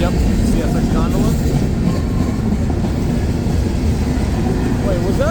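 CSX freight train of gondola cars rolls past at dusk on the old B&O main line, a steady, loud continuous rumble with faint wheel clatter, and a person talks over it.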